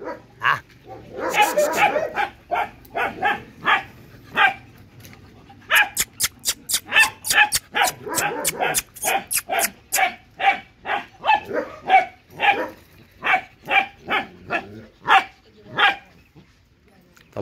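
A Malinois puppy barks in repeated sharp yips and barks, close and loud, in quick bursts with brief gaps, sometimes rapid-fire and sometimes spaced out.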